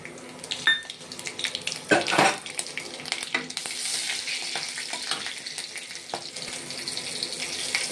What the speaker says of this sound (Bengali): তেলটা গরম হয়ে গেছে, আমি কাঁচা লঙ্কা আর কালো জিরেটা ফোড়নে দিয়ে দেবো